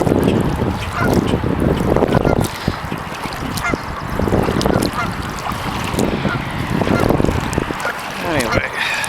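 Canada geese honk near a pond over the splash and knock of a kayak being paddled on the water. The calls come loud and repeated, and a voice speaks intermittently through them.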